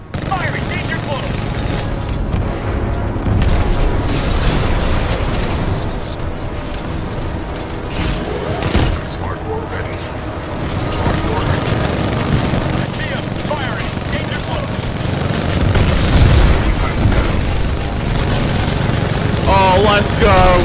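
Artillery strike explosions in Titanfall 2 pound continuously in a dense, loud barrage of heavy booms and rumbling blasts, mixed with mechanical noise and battlefield chatter from voices.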